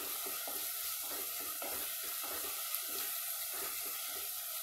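Green chillies and onions sautéing in a pan, a steady loud sizzle with stirring scrapes running throughout.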